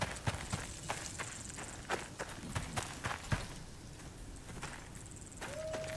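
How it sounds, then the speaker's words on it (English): A horse in the survival video game Icarus trots along in a quick, rhythmic clip-clop of hooves, fairly faint, with a few tonal game effects over the hoofbeats. "Oh, there's an angry horse."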